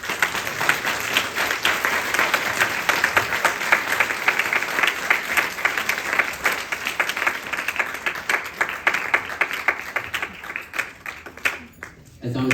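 A room of devotees at a Hindu yagna gives a round of applause, dense hand clapping that swells, thins out toward the end and fades near the close.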